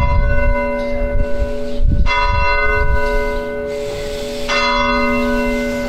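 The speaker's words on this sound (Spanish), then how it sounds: "Escuchar las campanas." Church bells ring in the village of Saelices, Spain, with sustained, resonant tolling that swells again twice, loud and steady, alone without talk.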